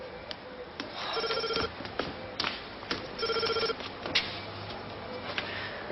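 A telephone rings indoors in two short electronic ringing bursts separated by a pause, heard at moderate level over faint room noise and scattered small taps.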